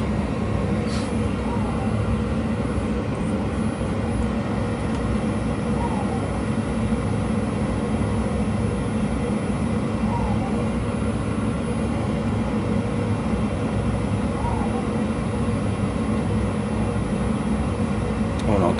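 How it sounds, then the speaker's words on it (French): An A320's hydraulic power transfer unit running after a right engine failure, a loud, continuous mechanical drone and buzz over the steady cockpit roar throughout, with no pause. "C'est la PTU là qui fonctionne"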